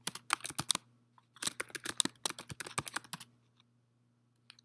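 Typing commands into Terminal on a computer keyboard, with quick crisp clattering keystrokes in two bursts separated by a short pause, then a few isolated taps, close over a faint steady hum.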